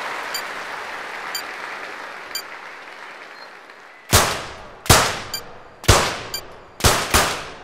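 Gunshots in an Olympic shooting event in the London 2012 video game. Soft faint ticks come first over a quiet hiss, then five sharp loud reports ring out about a second apart, each decaying briefly.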